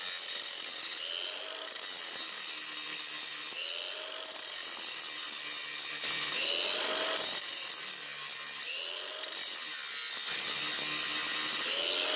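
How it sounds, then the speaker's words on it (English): A grinder works a Triumph Spitfire clutch hydraulics pin, taking down both sides in repeated harsh strokes every few seconds, each a rasping burst with brief pauses between, close and steady, with no talk. "we're going to grind down both sides best as we can"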